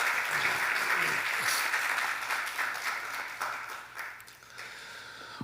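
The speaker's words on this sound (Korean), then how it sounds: "우리 큰 박수 인사합시다." Sustained applause from a church congregation at a Sunday service fills the space, steady and fairly loud, tapering slightly toward the end.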